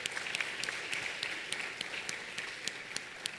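An audience at a dental congress award ceremony applauds steadily in a broad, sustained wash of clapping that stays even in level throughout.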